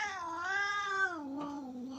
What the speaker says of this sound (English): Both cats on the table in front of me.